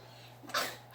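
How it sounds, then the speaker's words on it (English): A young girl's sneeze, a single short burst standing out near and clear against a steady low hum in a quiet room. "She started faking sneezing on her own."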